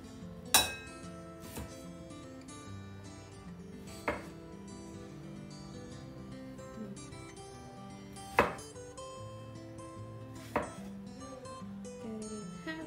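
A knife slices strawberries on a cutting board, giving a few crisp taps and knocks spaced irregularly against a quiet background with faint music, no talking.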